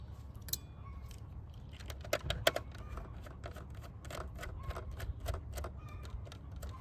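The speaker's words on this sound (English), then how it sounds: "use the 2mm screwdrivers to remove the 3" A 2mm screwdriver backs out three mounting screws during assembly of an AMS 2 TPU upgrade kit, giving scattered faint clicks and light ticks close by in a quiet room.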